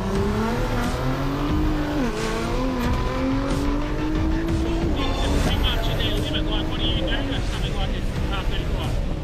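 A Nissan R35 GT-R race car with bolt-on modifications and a standard engine and gearbox, heading out on a closed track at a Power Cruise event, its engine droning and revving loudly and continuously nearby, with voices mixed in.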